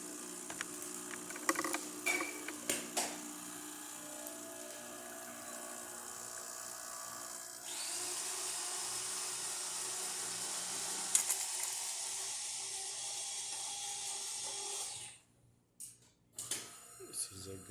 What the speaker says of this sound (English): Let's go ahead and test it and espresso shot in it.